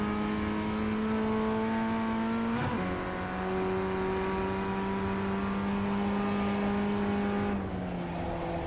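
A Formula Ford 1600 race car engine in iRacing drones loud and steady at high revs, with a quick dip and shift in pitch as a gear changes, then holding near-constant before another brief drop at the end.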